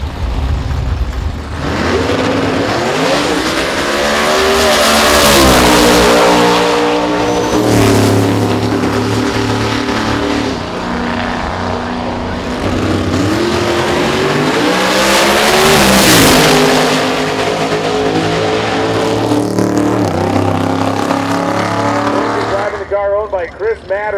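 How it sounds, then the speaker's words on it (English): A 2006 Saleen Mustang race car with a 333 cubic inch modular engine roars loudly down a drag strip in qualifying, its engine revving hard through long sustained pulls, with an announcer talking over the noise. "The 2006 Saleen Mustang, 333 cubic inch modular style engine here."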